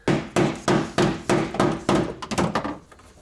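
Metal in a Lexus SC400 car floor being flattened with a hammer, about ten loud, close, regular blows that grow quicker and lighter toward the end.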